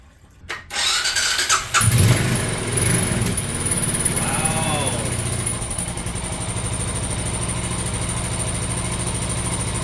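An engine with fresh oil and a new spark plug cranks, catches and roars to life, revving briefly before settling into a steady, close idle that drones on without talk.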